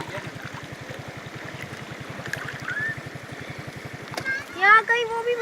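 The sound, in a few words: rushing water flowing through a channel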